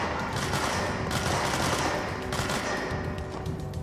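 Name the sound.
gunfire in the video game Control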